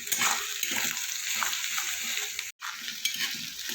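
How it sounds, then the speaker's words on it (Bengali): Garlic, ginger and spices frying in oil in a pan for Bengali chicken kosha, a loud, dense sizzle with stirring scrapes, close, cut by a brief dropout midway. "আমি সব কিছু ভালো করে একটু ভেজে কষিয়ে নেব যতক্ষণ না কাঁচা গন্ধটা যাবে"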